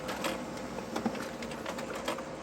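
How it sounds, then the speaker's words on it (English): A Brother printer runs at low volume as it resumes a print job, a steady mechanical whir with light rhythmic clicks and ticks as pages feed out. "mine's resuming the print, as you can see, because the pages are starting to file out here at the bottom"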